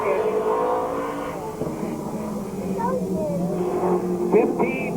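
Race car lapping Columbus Motor Speedway in 1988 qualifying, engine droning at a distance with rising and falling pitch as it circles, beneath a track announcer talking over the PA.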